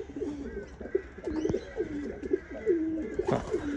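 Racing pigeons coo in a loft, a close, repeated run of soft rolling coos with a few brief flutters and knocks mixed in.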